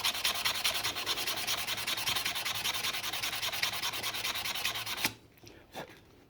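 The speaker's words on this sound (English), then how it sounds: "There's 220 and a little Scotch-Brite, just clean it off" Steady hand scrubbing of warm metal with 220-grit sandpaper and Scotch-Brite after a naval jelly treatment around a weld bead, a close, continuous rasping rub that stops abruptly, followed by a few faint scuffs.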